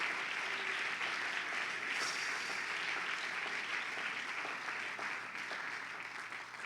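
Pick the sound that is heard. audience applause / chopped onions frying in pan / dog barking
audience applause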